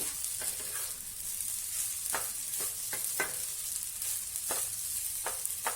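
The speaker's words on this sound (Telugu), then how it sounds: "ట్రాన్స్పరెంట్ అయ్యేదాకా మనం వీటిని ఫ్రై చేసుకోవాలి." Sago pearls fry in a pan for sabudana khichdi, giving a continuous soft sizzle with the occasional scrape and tap of a spoon stirring them, close and steady with no talking.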